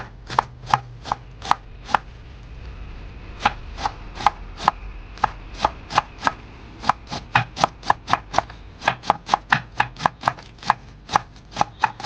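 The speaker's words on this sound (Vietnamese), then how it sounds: "Phần ngọn thì là mình sẽ cắt nhỏ ra." A knife chops fresh dill tops on a cutting board in quick, crisp strokes that come in bursts with short pauses between them, close and clear, and no one speaks.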